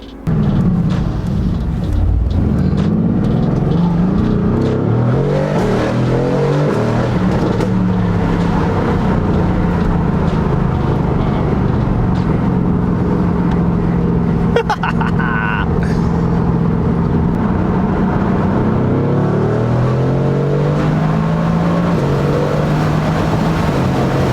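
A Stage 2 tuned Mercedes-AMG GT R of about 700 bhp drives on the road, its engine droning and rising and falling through revs with gear changes, heard from inside the car with a voice talking over it.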